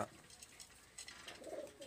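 Soft cooing from a male pigeon a short distance off, low and murmuring, with a couple of brief calls in a quiet setting.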